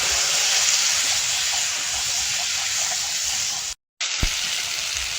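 Potatoes sizzle and hiss loudly in hot oil with fried garlic, a dense, close frying roar that runs steadily and cuts off briefly near the end before resuming.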